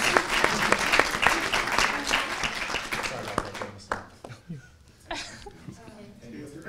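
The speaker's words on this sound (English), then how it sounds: "Let's go ahead and give him a round of applause." Applause from a student audience at a university student government executive candidate forum, steady crowd clapping that thins out and tapers into scattered claps, with some voices and light laughter mixed in.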